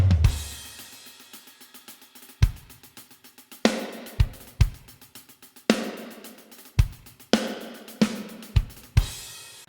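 Drum kit with kick, snare and toms played dry with no EQ, a sequence of separate sharp hits: a quiet run of lighter strokes, then louder spaced snare and tom cracks over about ten seconds, close and alone.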